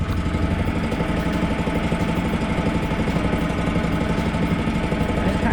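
A small engine on compact equipment idles steadily while warming up after being choked, a loud, even, fast-pulsing drone that holds constant with no talking.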